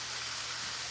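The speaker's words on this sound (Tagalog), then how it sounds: "Oran na!" Rain falls in a steady, soft hiss, an even wash of drops heard close for a short moment with no voices.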